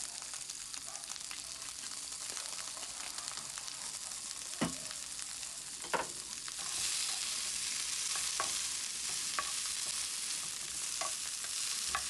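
Vegetables sautéing in oil in a pan for a healthy lunch, a steady broadband sizzle that thickens midway, punctuated by sharp clicks and scrapes of a utensil stirring against the pan.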